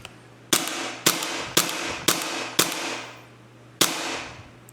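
A Raptor/Lambda SR-2M gas blowback airsoft replica fires blanks from an adapted magazine, giving six sharp, loud cracks: five in an even rhythm, then a short pause before the last one, each with a brief decaying tail.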